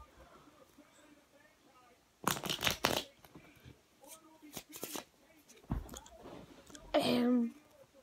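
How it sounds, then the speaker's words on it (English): Several bursts of cards riffling and shuffling, close and fairly loud, separated by quieter handling noises. "I'm gonna shuffle up your cards"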